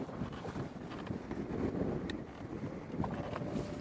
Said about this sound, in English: Wonder how well these mics are actually working. With how windy it is.